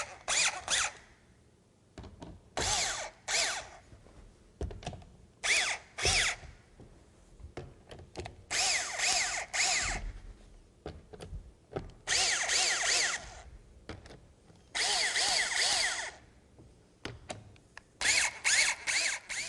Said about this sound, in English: We're going to use power tools to do that.